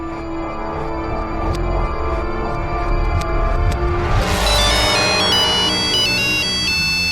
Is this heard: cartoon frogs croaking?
no